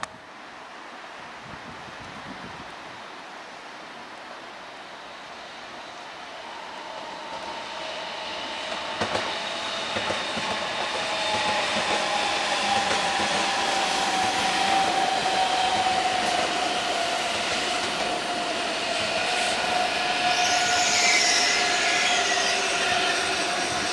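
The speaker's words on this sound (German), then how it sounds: "Und der nächste ICE nach München." An ICE train at Augsburg main station in autumn rolls through with a steady rumble and rising wheel and rail noise that swells toward the end, with no talking.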